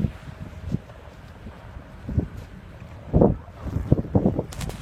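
Gusty blizzard wind buffets the microphone in rough low rumbles, with scattered sharp pattering bursts of hail striking nearby.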